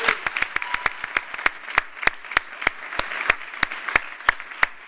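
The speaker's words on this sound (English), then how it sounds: "give you a round of applause" Clapping at a university thesis presentation competition, sparse and unsynchronized, with sharp individual claps in a quick irregular rhythm, close and distinct, no talking.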